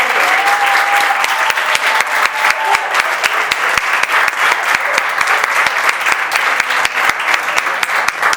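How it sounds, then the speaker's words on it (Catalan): At a high school graduation ceremony in Spain, the audience gives loud applause to Iván, a student with top honours: dense crowd clapping with crisp, evenly spaced near claps standing out, steady for the whole stretch. "Un fort aplaudiment per a Iván"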